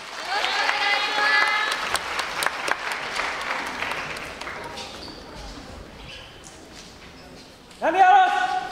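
Crowd applause and clapping at an outdoor dance performance festival, loud and dense, bursting in with a strong swell near the end while a voice and music are also present.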